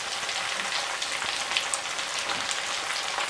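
Steady, dense sizzling of pumpkin frying in a pan, a continuous crackle with faint stirring scrapes and no talking.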